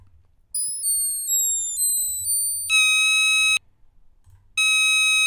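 A Behringer synthesizer's generative patch with random pitch, envelopes and note lengths steps through shifting pitches in short gliding notes, then a sustained bright buzzy tone cuts off and returns after a pause.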